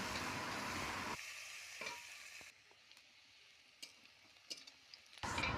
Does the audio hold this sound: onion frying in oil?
yes